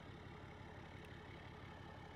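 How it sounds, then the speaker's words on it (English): A pickup truck's steady, low engine idle rumbles continuously throughout, even and unbroken, with no voices. "The truck is running."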